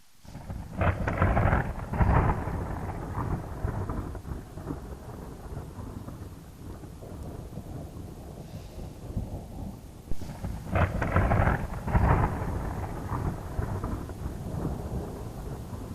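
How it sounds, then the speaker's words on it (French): Thunder rumbles near a mountain lodge in Nepal, two heavy rolling bursts a few seconds apart over a steady wash of rain, loud and close. "c'est la fin du tonnerre là, mais j'ai vu des éclairs"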